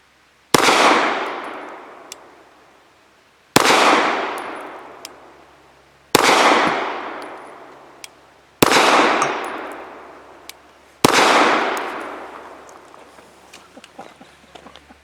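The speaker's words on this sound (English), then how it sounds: "Now for 5 shots from 7 yards using Nosler 115 grain match." Five 9mm shots from a Smith & Wesson Pro Series 1911 pistol with Nosler 115 grain match ammunition, fired at 7 yards: sharp, loud reports spaced about two to three seconds apart, each ringing out briefly.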